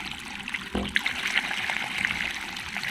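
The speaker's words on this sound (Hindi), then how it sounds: "इसी पाइप से अभी देखिए खेत में सिंचाई होगा।" Water gushes from an irrigation pipe into a village paddy nursery field, a steady, close, rushing flow with a brief louder splash near the start and no talking.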